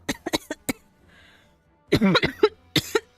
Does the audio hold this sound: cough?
yes